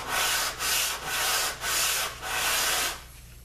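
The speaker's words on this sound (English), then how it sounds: "180 grit paper on these sanding blocks." Wood is sanded by hand with a 180-grit sanding block in five steady back-and-forth strokes, a close, rhythmic abrasive rasp.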